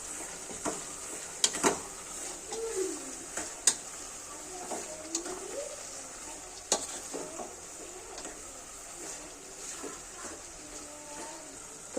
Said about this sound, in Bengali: এই যে এইবার কেটে রাখা অ্যালোভেরাগুলো দিয়ে দিচ্ছি, আবার ভালো করে নাড়বো।